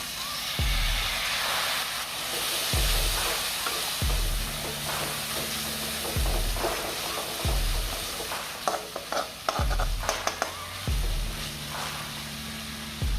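Spice paste for palak paneer, made with red chili powder, salt and a splash of water, sizzles loudly in a pan while a spatula thumps and scrapes in a regular rhythm of strokes.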